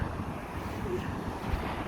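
Waves roll onto a Baltic Sea shore under steady wind, a continuous broadband wash with low rumble and no distinct breaks, moderately loud and with no voices.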